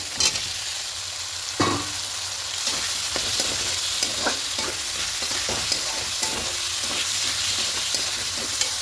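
Potatoes sautéing in a pan for a vegetarian cauliflower and potato curry, with a steady broadband sizzle under repeated scraping stirs and a louder clatter near the start. No one speaks.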